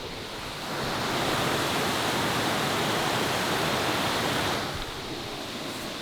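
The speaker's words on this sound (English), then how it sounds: "The water's probably pretty loud, but yeah, I thought I'd get the big camera out and get some footage of this waterfall." Waterfall beside a canoe portage in Algonquin's backcountry in early spring, a steady, loud broadband roar of falling water that swells after the first second and eases slightly near the end, with no voices.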